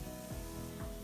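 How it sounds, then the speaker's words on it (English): Onions sizzle and fry steadily in a hot pan, a continuous close crackle with faint scraping or stirring sounds, cooked until brown before mushrooms and chard go in. "once the onions are nice and brown and you can hear that sizzle"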